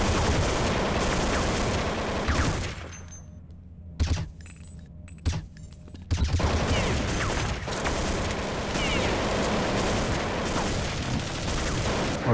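Sustained rapid gunfire from a first-person shooter game, with shots aimed continuously at a wall; dense bursts fill most of the stretch, broken by a short lull with a few isolated sharp reports before heavy firing resumes.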